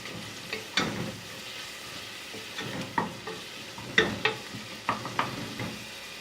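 Ginger and garlic are stirred into fried onions in a pan, with a soft sizzle under repeated scraping strokes of a spoon, close and fairly quiet.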